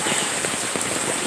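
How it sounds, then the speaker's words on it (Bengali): Heavy rain pours down in a dense, steady hiss of drops pattering on surfaces close by, with no voices. "তো দেখতেই পাচ্ছেন অনেক জোরে বৃষ্টি হচ্ছে।"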